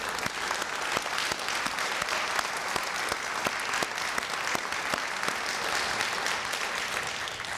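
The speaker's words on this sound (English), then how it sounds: "please join me in a round of applause for the faculty" A graduation audience at the NYIT Vocational Independence Program ceremony applauds the faculty, a fairly faint, even wash of many hands clapping, with a few sharper individual claps standing out, heard from a distance.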